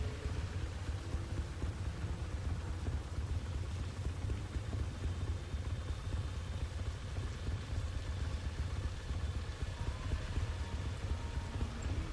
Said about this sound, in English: While it's raining.